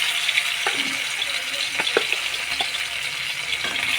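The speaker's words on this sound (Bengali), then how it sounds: "দেখো এবারে মাছ দিচ্ছি এই যে এবারে মাছ দিয়েছি" Pieces of snakehead fish frying in hot smoking oil in a wok, a steady bright sizzle with a few sharp crackles and spatters, close and fairly loud, no talking.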